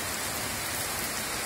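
Heavy downpour during a thunderstorm, a dense, constant roar of rain hitting surfaces with low rumbling underneath, loud and unbroken throughout.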